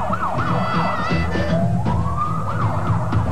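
A wailing ambulance siren from a Colombian car insurance advertisement sweeps up and down in repeated loud cycles, close and continuous, with vehicle rumble underneath and no talk.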